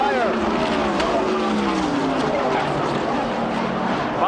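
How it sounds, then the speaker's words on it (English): Bobby Allison's NASCAR stock car blows a tire and crashes on the front stretch, tearing out protective railing: a loud, continuous roar of engines and crowd wash with sweeping pitch lines as cars pass, under an excited commentator's voice. "Bobby Allison with a horrible crash here on the front stretch."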